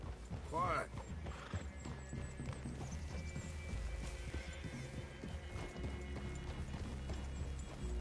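Horses in Red Dead Redemption 2 whinny and snort with hooves clip-clopping at close range, a clear neigh early on and then steady hoof movement, quiet in level with a voice speaking partway through.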